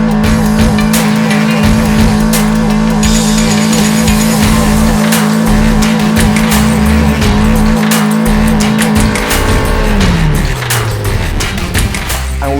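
A 2001 MG F doing a burnout, its engine roaring loud and steady with sustained tire squeal and skidding, the revs dropping and tone falling away near the end.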